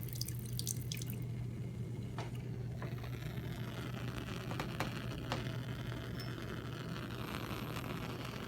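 Water runs into a laboratory sink with scattered drips and small splashes over a steady low hum, quiet and close, with no voices.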